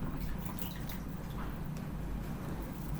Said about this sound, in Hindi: मैंने इसको पानी से धो दिया